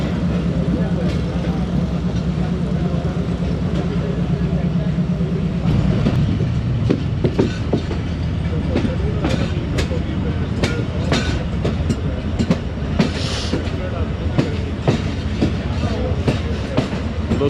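Khyber Mail passenger train pulling into Pattoki railway station in Pakistan: a loud, steady rolling rumble that turns into a rhythmic clickety-clack of wheels over rail joints partway through, with sharp metallic clanks, close and continuous.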